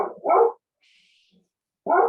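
A dog barks in two short, loud bursts near the start and again at the end, separated by a nearly silent gap with only a faint high hiss.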